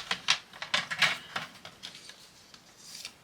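A paper fold being creased with a paper trimmer for a scrapbooking card, a quick run of close, crisp scraping ticks and rubs that fade slightly toward the end.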